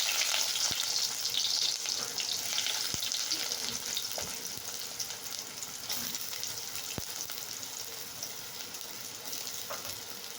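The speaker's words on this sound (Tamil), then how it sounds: "கடுகு பொரிஞ்சு முடிஞ்சு வெங்காயத்தை போட்டுப்போம்" Onions sizzle in hot oil right after mustard seeds have finished spluttering, a dense frying hiss with a few sharp pops and clicks scattered through it, fading slightly toward the end.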